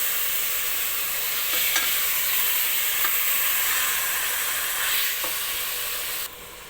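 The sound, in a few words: stirring chicken roast in a sizzling pan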